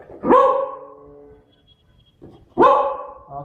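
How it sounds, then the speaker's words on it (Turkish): A beagle barks twice, two loud, close, sharp barks about two seconds apart, with a short quiet yip between them and no talking. "iki kere havla"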